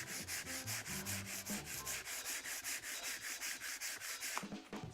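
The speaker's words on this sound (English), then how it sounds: "Sand this down." Hand sanding a filled oak surface with steady, rhythmic back-and-forth rasping strokes, close and fairly soft, running for several seconds without speech.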